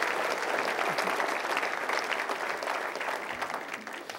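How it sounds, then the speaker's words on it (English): Audience applause at a city's state-of-the-city address, a sustained wash of many hands clapping, loud and even from start to finish, slightly tapering at the end, without speech. "I'd like you to give them a round of applause"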